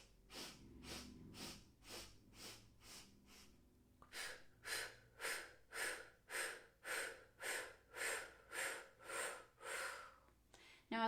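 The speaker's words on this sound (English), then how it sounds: "using the nose to start, and this is going to be like you're flaring your nostrils and opening the breath, and then when you breathe out, you're going to be using the mouth" Pranayama breathing at a yoga class: a steady series of about fifteen sharp nasal sniffs and mouth puffs in an even rhythm, close and distinct, with no talking.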